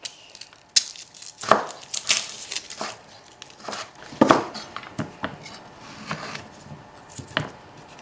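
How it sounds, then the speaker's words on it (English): Garlic being peeled for kimchi paste gives scattered close crackles, crinkles and small knocks of papery skins, irregular and fairly quiet, with no talk. "So first I'm gonna peel the garlic."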